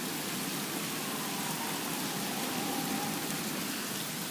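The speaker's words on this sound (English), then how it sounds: "It's called rain." Steady rain falls outdoors as an even, continuous hiss of drops on surfaces, moderately loud and unchanging throughout, with no voices.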